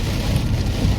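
Heavy rain pours steadily outside at a house under construction, a loud, dense, continuous roar of rainfall with no letup.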